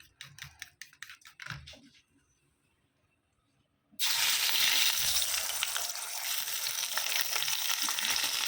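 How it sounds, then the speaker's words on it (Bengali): Onion frying in hot oil with tempering spices for an egg dish, a loud continuous sizzle that bursts in suddenly after a few quiet seconds and keeps hissing steadily, preceded by light clicks and tapping. "তো পেঁয়াজ ফোড়ন দিয়ে দিয়েছি"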